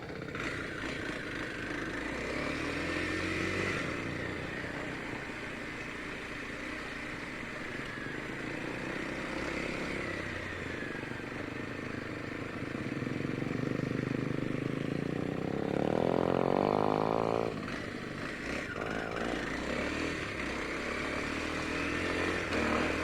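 An Apollo RFZ 110 dirt bike running a PZ19 carburetor on a trail, its small engine buzzing steadily and loudly throughout, with brief revs rising and falling mid-ride.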